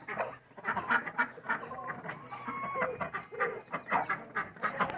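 A flock of ducks and chickens, with a pair of roosters among them, crowds together for feed at evening, filling the yard with dense overlapping quacks and clucks, close and fairly loud throughout.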